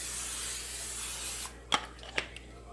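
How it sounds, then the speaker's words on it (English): A steady cooking-spray aerosol hisses onto a pan for about a second and a half, then stops, followed by a couple of light knocks and clinks from the pan. "we're gonna spray the pan"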